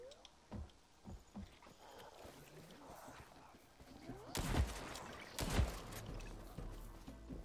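Two sharp gunshots from the video game Hawked ring out close together past the midpoint, preceded by softer clicks and scattered impacts over a quiet, watery ambient bed.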